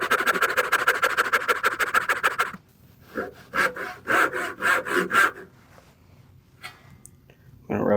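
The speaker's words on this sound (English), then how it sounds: "I just have a handheld dovetail saw." Handheld dovetail saw cutting a wooden ring on a lathe, a close and fast rhythmic run of rasping strokes, then a pause and a slower series of separate strokes, ending with a brief burst of sawing.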